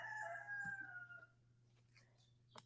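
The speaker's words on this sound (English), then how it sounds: "that annoying rooster, that fighting rooster we have out there" A fighting rooster crows once outdoors, fairly distant and faint, its drawn-out call fading before a brief clatter near the end.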